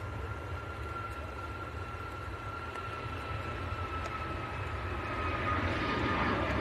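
A TUI airliner rolls for takeoff at Manchester Airport in bad weather, a steady distant engine roar that builds slowly and grows louder toward the end, with a faint whine above the rumble.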